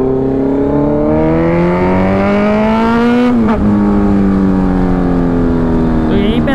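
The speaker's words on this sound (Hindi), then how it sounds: "पटाखे ना बहुत मार रही है अपनी बाइक" A Kawasaki Ninja H2R superbike engine winds up through rising revs, drops sharply, then climbs again, loud and close, with a few crackling exhaust pops, heavier since a service, and a voice briefly underneath.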